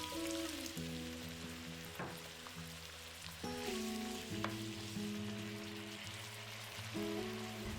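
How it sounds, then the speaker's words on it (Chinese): Eggplant fries in a wok as water is poured in, a steady crackling sizzle with low bubbling, stirring scrapes and a few sharp clinks, close by and without voices. "再把茄子加进来， 倒入适量清水"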